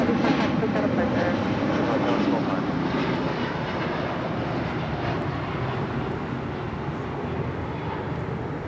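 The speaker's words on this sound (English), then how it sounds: "That is All Nippon Airways Flight 5 Heavy departing to Tokyo, Narita on a 787-9 Dreamliner" An All Nippon Airways Boeing 787-9 Dreamliner departs Los Angeles International Airport, its engines giving a loud, steady broadband roar that fills the whole stretch and fades slightly toward the end, with faint voices in the background.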